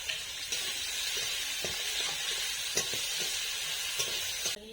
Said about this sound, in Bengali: এবার কেটে রাখা পেঁয়াজ দিয়ে দিচ্ছি